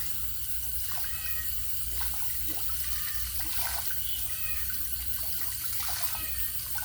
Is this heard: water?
yes